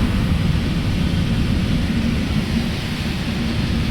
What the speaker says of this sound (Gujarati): આ જુઓ વરસાદ